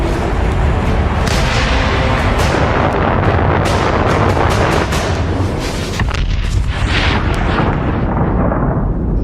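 Nuclear bomb launch and detonation in the Fallout 76 video game: a continuous loud roar of rumbling blasts and crackling bursts that stays dense and sustained throughout, with no voices.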